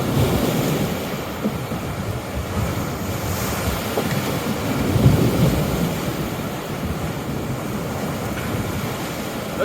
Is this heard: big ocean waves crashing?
yes